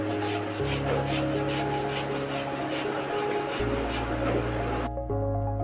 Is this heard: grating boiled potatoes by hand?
yes